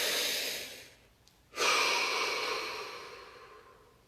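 Two slow, deep breaths close to the microphone, a long airy exhale fading out, a brief pause, then another full breath that trails off gradually.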